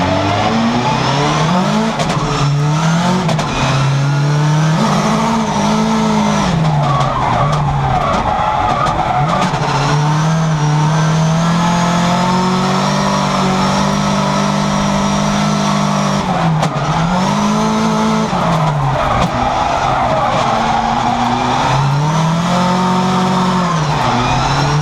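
Loud, continuous in-cabin drone of a car fitted with a Quaife QBE69G straight-cut sequential gearbox, engine note rising and falling through repeated gear changes with a constant gear whine throughout, no talking.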